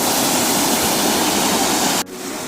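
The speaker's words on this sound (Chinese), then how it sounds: "看这清澈的溪水， 多漂亮！" A clear mountain stream in the Daba Mountains of Langao County, Shaanxi, at about 1,700 metres after recent rain. It makes a loud, continuous close rush of flowing water that cuts abruptly and then continues more quietly.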